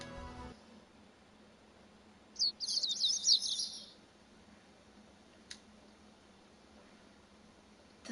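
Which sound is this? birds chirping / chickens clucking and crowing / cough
birds chirping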